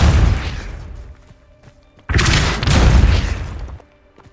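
Blasts from the Confringo explosive fire spell in Hogwarts Legacy, a loud booming burst followed by a second heavy rumbling explosion that holds for over a second before fading.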